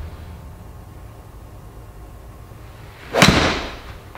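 A Callaway X Forged iron strikes a golf ball on a draw shot, one sharp crisp impact near the end after quiet outdoor ambience, followed by a brief fading whoosh.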